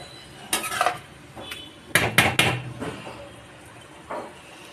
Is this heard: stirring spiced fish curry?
yes